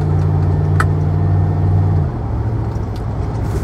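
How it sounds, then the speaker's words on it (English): A Ford car with a 4R70W automatic transmission runs close by with a loud steady engine hum that drops to a lower idle drone about halfway through, with no talking. "fire up, go for a quick little test drive."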